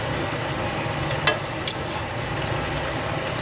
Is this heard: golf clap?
no